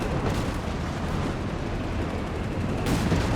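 Company of Heroes 3 artillery fire, a continuous heavy rumble of distant booms and blasts rolling together with a sharper burst near the end, with no voices over it.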